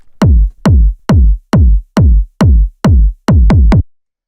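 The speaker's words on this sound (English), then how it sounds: "you just want this kind of like really fat 909-esque hard-hitting kick like this" A fat, hard-hitting 909-style kick drum from a techno track thumps alone in a steady four-on-the-floor pattern of about nine deep, punchy hits with booming low tails, the last few coming slightly faster.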